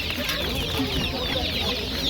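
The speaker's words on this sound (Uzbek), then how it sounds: "Bir oylikdan o'tib qolibdi jo'jalarimiz mana." Crowd of month-old chicks cheeping nonstop, close and steady, in a busy poultry bazaar with a low wash of background noise.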